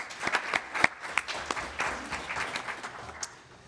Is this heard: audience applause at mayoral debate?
yes